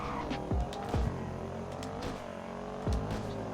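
A high-performance SUV launching hard in second gear with traction control off, engine note rising and dropping through rapid revs with tire noise and brief bursts, loud and close, no speech.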